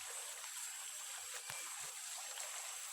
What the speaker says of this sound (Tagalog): Ito na mga sapa